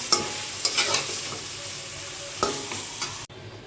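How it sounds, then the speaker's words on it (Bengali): Rohu fish head sautéing with spices in a pan for a mung dal dish, a steady close sizzle broken by several scraping stirs of the utensil, with no voices. "এটা একটু সুন্দর করে মাছটা একটু কষিয়ে নিই"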